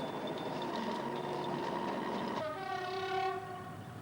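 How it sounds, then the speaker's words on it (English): A diesel multiple unit passenger train from Cambridge rolls loudly and steadily across the rebuilt Trowse swing bridge in Norwich, wheels rumbling, then sounds a sustained horn blast partway through, with no talking. "The first train to cross with passengers is a DMU from Cambridge."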